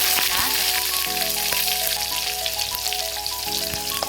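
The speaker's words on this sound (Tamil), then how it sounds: "சீரகம் கடுகெல்லாம் பொறிஞ்சிருச்சு இப்போ வந்து சின்ன வெங்காயம்" Small shallots sizzling in hot oil with popped cumin and mustard seeds for a millet sambar meal, a steady close frying hiss with occasional crackles and pops throughout.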